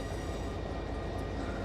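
Train cars rolling through a hump yard in the Run8 train simulator game, a dense continuous rumble of wheels on rail, loud and steady throughout.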